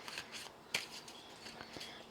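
Tarot cards being shuffled by hand, heard as soft, close, faint riffles and papery flicks with one sharper snap in the middle. It is quiet, with no talking.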